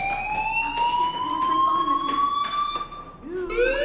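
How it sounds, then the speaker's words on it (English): A fire alarm blares in the video game Life is Strange Remastered, a steady, piercing tonal wail sustained throughout at moderate loudness, with faint voices underneath. "do you hear that fire alarm?"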